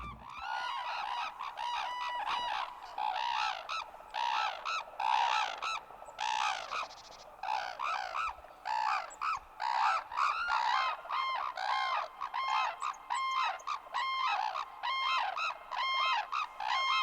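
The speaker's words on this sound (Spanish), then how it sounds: "Entre ellas caminaban dos grullas coronadas, moviéndose con gran elegancia." Grey crowned cranes calling on open Kenyan savanna, a dense run of loud, overlapping honking calls repeating almost without pause, fairly near and with no other sound over them.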